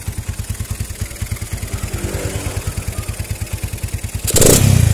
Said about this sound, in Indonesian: Kita akan coba gas ya.